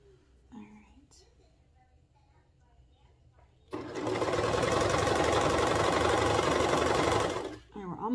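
A sewing machine stitches the side seam of a toddler's reversible swimsuit in slippery fabric, starting after a few quiet seconds with brief faint speech, then whirring loudly and steadily for about four seconds before stopping.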